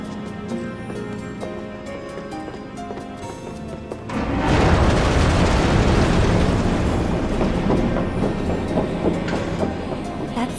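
A train in Final Fantasy VII Remake, running from the Sector 7 slums toward the train graveyard, starts up with a loud surge of rumble about four seconds in that holds steady, following a quieter stretch of tonal hum.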